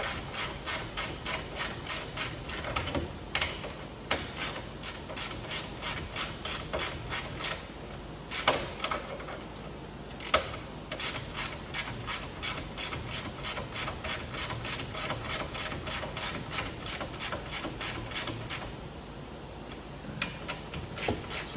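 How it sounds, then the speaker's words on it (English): A hand ratchet tightens bolts holding the aluminum radiator on a 1.6 Spec Miata (Mazda MX-5) track car, a close, rapid clicking pawl in repeated strokes, with brief pauses and a couple of louder knocks between bursts. "Switch to a hand ratchet."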